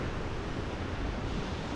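Ocean waves wash onto the shore at a Hastings beach campsite on a spring evening, a dense continuous roar of surf with no voices, steady and fairly close.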